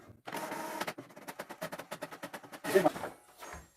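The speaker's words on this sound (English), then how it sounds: "It is going to print out it." An HP ENVY 6032 inkjet printer printing a page, a rapid series of rhythmic mechanical clicks and feed whirs at close range, ending with a louder burst as the sheet is pushed out.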